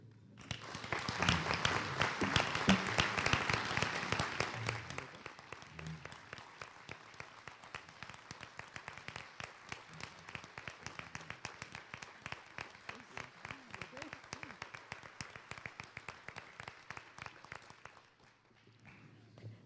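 An audience applauds at the close of a mayor's State of the City speech, with many hands clapping steadily for most of the time, strongest at first and then fading out.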